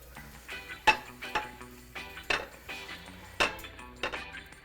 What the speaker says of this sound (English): we got our scrambled eggs all cooked here, so just gonna go and plate all of them up